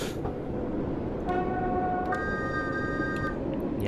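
A locomotive horn in Train Sim World's Great Western Express blares in two sustained tones, the second higher and longer, over steady rumbling cab and rail noise.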